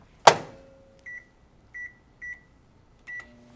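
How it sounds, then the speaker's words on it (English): A microwave oven heating chocolate chips: a loud clunk as the door shuts, then several short electronic beeps from the keypad and a final beep as the oven starts humming quietly. "we need to put our chips in the microwave for 1 minute"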